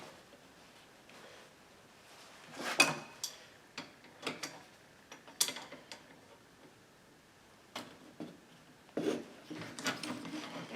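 A puller is worked on a McCulloch Timber Bear chainsaw to pull a part off. Sharp metallic clicks, ratcheting and tool knocks come in irregular bursts against a quiet background.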